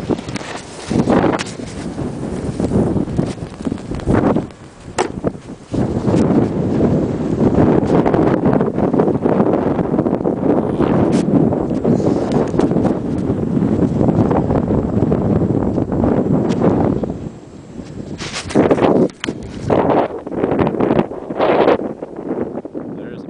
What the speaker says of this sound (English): it's a windstorm out there